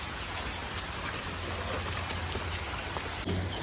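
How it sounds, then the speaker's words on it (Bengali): Steady rain pours down in a rural village, a dense, even hiss of drops on surfaces all around, close and continuous, with a brief louder patter near the end. "কারণ এই বৃষ্টি থামবে না"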